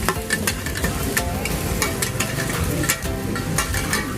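Stir-frying Hokkien noodles with pork cracklings, oil and salt in a Phuket street kitchen: a steady, dense sizzle with scraping and clanks of a spatula, loud and continuous throughout.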